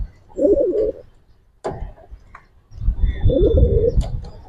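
A pigeon coos close by in two soft, throaty bursts, one at the start and one longer near the end, separated by a sharp click and a brief lull.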